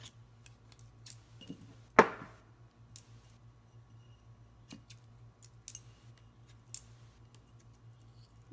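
A single crisp snip of scissors cutting the ends of ribbon or wrap on a homemade Halloween candy jar, close and clear against a quiet room with faint light handling clicks around it.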